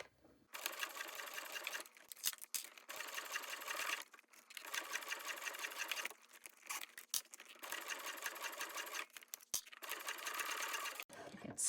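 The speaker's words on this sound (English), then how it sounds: "And I'm sewing around 1/8 of an inch." A MyUno sewing machine stitches about an eighth of an inch in from the edge through clear vinyl and a fabric seam allowance, running in several steady bursts with short stops between, close and fairly quiet, with no talk.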